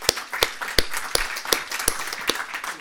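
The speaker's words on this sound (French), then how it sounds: "On l'applaudit" Scattered, sparse audience clapping at a French conference talk on the circular economy and resource preservation: a handful of sharp claps at a steady, unhurried pace, moderately close, with no voices over it.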